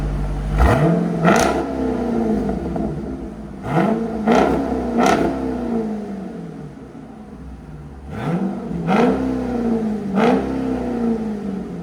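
Dodge Durango SRT with a 6.4L HEMI V8 and aftermarket exhaust is blipped in three paired bursts, each sharp rev rising then falling back to a deep rumbling idle, close and loud.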